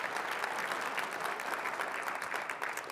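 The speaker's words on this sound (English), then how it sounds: "Big round of applause." A conference audience breaks into steady, full applause as a volunteer comes up on stage, a dense and even clapping wash from a large crowd lasting the whole stretch without talk.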